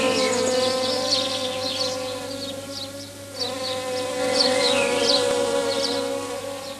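A bee buzzes steadily around a flower, a close, continuous drone that swells and dips slightly as it moves, with no voices.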